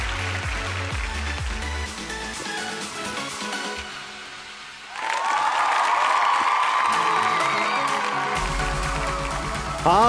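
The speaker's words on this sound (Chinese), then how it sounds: "我们再一次热情掌声" An audience at a fan meeting event breaks into loud, sustained applause and cheering after a quieter stretch of voices and music, the clapping filling the room for several seconds.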